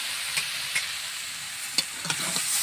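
Taro stalks frying in a pan, a soft even sizzle with several sharp spatula clicks and scrapes against the pan at irregular intervals.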